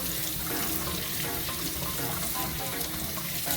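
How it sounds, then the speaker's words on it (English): Running tap water splashes steadily over cassava root being washed in a sink, a constant close hiss and patter. "You just want to wash it off real good."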